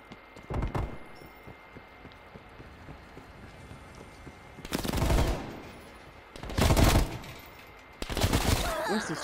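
Bursts of gunfire in Call of Duty Black Ops Cold War online play arrive in four separate loud volleys, a short one early and three longer rattling bursts later, with quieter game ambience in between.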